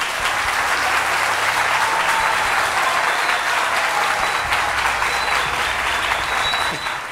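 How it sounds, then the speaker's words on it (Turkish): Studio audience applause during a Turkish parody of the quiz show Who Wants to Be a Millionaire, a steady, dense wash of many hands clapping at even loudness throughout, fading slightly at the very end. "Bana bir alkış alalım lütfen."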